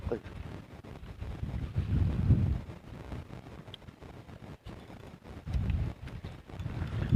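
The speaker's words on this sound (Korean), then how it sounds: "바람 때문에 바람이 문제로다" Wind gusts across a breakwater at Haegeumgang on Geoje island during rainy-day fishing, heard as low, uneven buffeting rumble on the microphone that swells and fades in waves.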